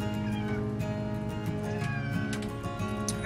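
A house cat meows a few times indoors, close by, over a steady hum of background noise and faint household sounds.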